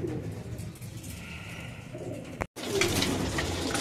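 Racing pigeons coo in soft, low repeated calls close by in their loft, then the sound cuts off briefly and resumes with fuller cooing and faint rustling.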